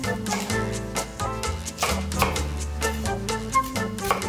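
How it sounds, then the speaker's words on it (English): A knife chops soaked shiitake mushrooms into bite-sized pieces on a cutting board, a quick series of close, crisp taps in an irregular rhythm. "Cut soaked shiitake mushrooms into bite-sized pieces."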